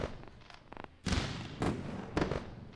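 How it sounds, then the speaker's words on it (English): Fireworks pop and crackle in a series of sharp bursts, several close thuds spaced irregularly over a low background, moderately loud and alone. "And we get the fireworks for it."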